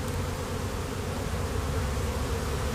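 A small honeybee swarm buzzes in a backyard, a dense continuous hum heard close and steady, with no talk.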